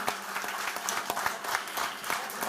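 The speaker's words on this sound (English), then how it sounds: "Let's have a huge round of applause" Audience applause at a motorsport championship brand launch event, many hands clapping with some distinct sharp individual claps standing out in a steady, fairly loud burst.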